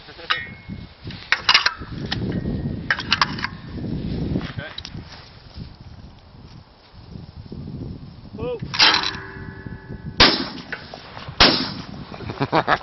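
Browning B525 over-and-under shotgun firing at clay pigeons outdoors, with a few loud, sharp reports spaced several seconds apart amid voices talking throughout.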